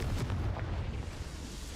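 A Confringo fire spell blasts in Hogwarts Legacy on Switch, giving a sustained rumbling explosion with heavy low-end boom that rolls on loudly for nearly two seconds, with no voices.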